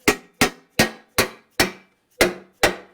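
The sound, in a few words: tapping a cover back into place on an ATV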